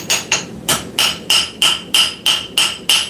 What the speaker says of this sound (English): A little bit of auto body hammer.